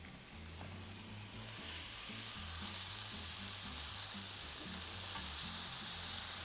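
Vegetables with garlic and tomatoes sautéing in a pan, giving a steady, even sizzle with faint stirring underneath, close and fairly quiet, with no voices.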